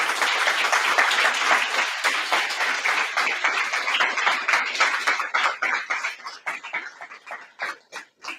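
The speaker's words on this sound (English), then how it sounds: "I would like everybody to give a round of applause to Antonia, who was the real coordinator of this project" Audience applause at a closing event and student demo day, dense and loud at first, then thinning into scattered individual claps that fade toward the end.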